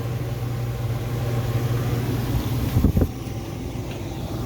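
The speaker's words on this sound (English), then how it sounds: "Alright, now my fan went to low" A Dometic RV rooftop air conditioner runs steadily with its fan on low and compressor engaged, a continuous broadband hum and rush with a low tonal drone, loud and close, with a brief rattle near the end.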